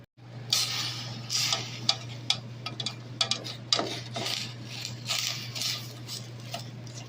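A spoon stirs cranberry sauce boiling in a pan. Light clinks and scrapes arrive in irregular taps over a steady low hum, close and fairly quiet.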